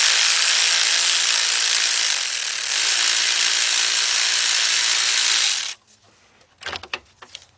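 A ratchet turns a 10mm deep socket on a 3/8 drive to remove a bolt holding a timing chain guide on a Chevy Cobalt engine. Steady, close ratcheting runs for several seconds, then a few sharp metallic clicks follow.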